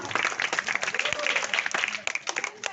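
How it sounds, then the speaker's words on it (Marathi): Audience applause from a crowd at a children's values-education event: dense, continuous clapping for a few seconds, moderately close, with a voice talking over it. "जोरदार टाळ्या वाजवा"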